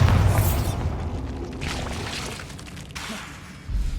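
Bombarda blasting spell going off in the Hogwarts Legacy video game during a dragon and spider battle, a heavy low boom at the start fading into a rumbling roar, with a second thump near the end.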